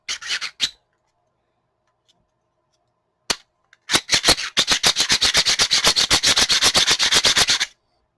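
Rough 3D printed part rubbed smooth with a sanding tool: a couple of short strokes, a pause, then a fast steady run of rasping back-and-forth strokes, close and crisp, with no talk.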